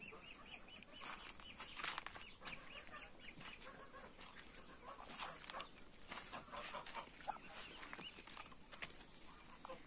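Broiler chickens on a small farm cluck and call continuously at close range, with no one talking over them.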